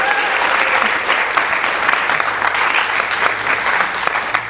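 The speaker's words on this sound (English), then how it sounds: "I would like to ask for a round of applause for our brilliant MC, Andy Butterfield." Sustained audience applause at a 2020 Vermont Poetry Out Loud regional semifinal, a dense steady clatter of many hands clapping at close range, filling the room without voices over it.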